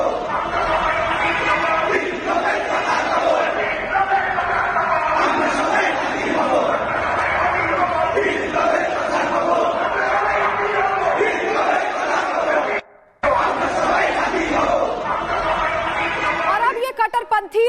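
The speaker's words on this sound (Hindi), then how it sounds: "ढाका की गलियों से निकलकर ये भीड़ आजादी की मांग कर रही है" A large crowd of protesters in the streets of Dhaka, a dense, continuous roar of many voices shouting demands, loud and close throughout with one brief dropout near the end.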